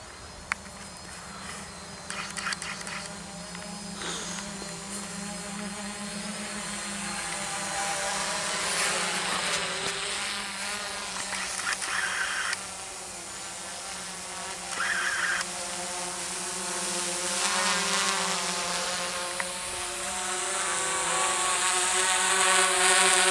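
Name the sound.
programmed drone ascending and flying automatically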